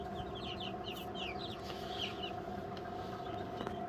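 Many small turkey poults peep in quick high chirps over a steady low hum, fairly close, with scattered soft clucks and no talking.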